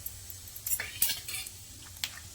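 Peanuts stirred while dry-roasting in a pan for Pune-style chivda, with quick metallic scrapes and clinks of a spoon against the pan over a faint background hiss.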